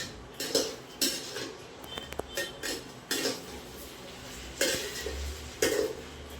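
Soaked rice being stirred in a cooking pot for coconut pulao, with repeated scraping strokes and soft clinks of a spoon against the pot at an irregular rhythm, close by with a few brief vocal noises.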